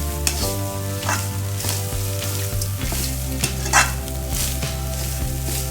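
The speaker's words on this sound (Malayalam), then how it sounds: "രണ്ട് ബീട്രൂട്ട് വറക്കാം" Beetroot sizzles and fries in a pan, a steady close crackle broken by a few stirring scrapes and soft clinks, with no voices.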